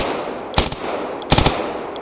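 Gunfire in the PC shooter Stalker Anomaly: two quick bursts of automatic fire about three-quarters of a second apart, each a few rapid close shots over a constant bright in-game hiss.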